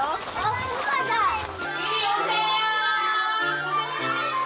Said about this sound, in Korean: 그 교실에 다시 아이들 함성이 울려 퍼집니다.